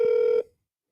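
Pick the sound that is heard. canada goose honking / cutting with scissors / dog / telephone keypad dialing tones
telephone keypad dialing tones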